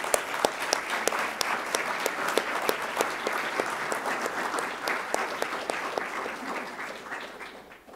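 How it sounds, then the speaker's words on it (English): An awards-ceremony audience applauds an honoree with sustained, even clapping, crisp nearby claps standing out over the crowd's patter, gradually dwindling toward the end. "please join me in giving her a round of applause"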